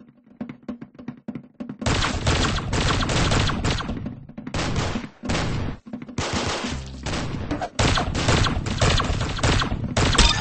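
Rapid bursts of gunfire from a shooter video game, loud and dense, with clustered volleys of shots firing almost continuously after a quieter opening.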